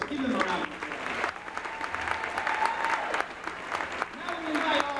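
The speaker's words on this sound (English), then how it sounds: "Give them a round of applause." Crowd in a school gym at a girls' volleyball game gives a sustained round of applause for veterans and military personnel, steady dense clapping with some voices in the mix.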